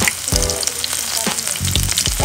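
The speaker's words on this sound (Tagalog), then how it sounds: "pag mainit na yung ating kawali, magigisa na po tayo" White onion hitting a hot kawali for pork steak, a loud, close sizzle with bursts of crackling and several clattering spatula knocks.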